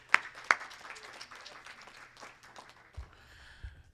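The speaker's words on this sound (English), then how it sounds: "let's clap for that" A few faint, scattered claps ring out from a small audience at a legislative seminar for blind advocates, with two sharper claps at the start, then sparse patting.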